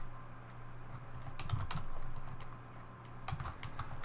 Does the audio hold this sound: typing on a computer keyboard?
yes